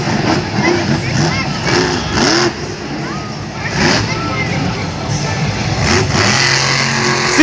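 A Monster Jam monster truck engine roars and revs continuously in a Philadelphia stadium while the truck battles mechanical issues, the loud drone swelling and dipping under crowd noise and an announcer's commentary.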